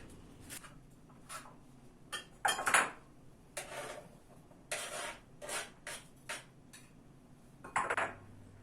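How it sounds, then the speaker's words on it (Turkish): A knife finely chops peppers in quick bursts of crisp strikes against a board, irregular clusters of taps with brief pauses between them, close by. "Biberlerimizi böyle güzel güzel ince ince doğrayacağım."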